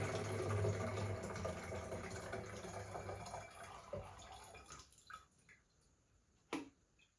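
Fixer liquid poured out of a film developing tank during black-and-white film processing, a steady faint pour that thins out into a few separate drips and a small splash near the end.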